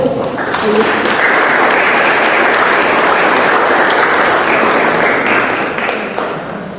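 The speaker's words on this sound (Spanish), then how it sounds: "Un aplauso para Gabriela, por favor." Applause from an audience at a forum panel discussion, a dense steady wash of many hands clapping that begins almost at once, holds loud and even for several seconds, then tapers off near the end.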